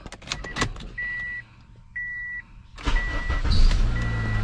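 A 2009 Honda Accord (Euro, CU2) starts after a clutch replacement: key-on warning beeps and chimes, then the engine catches and settles into a close, steady idle while chimes keep sounding.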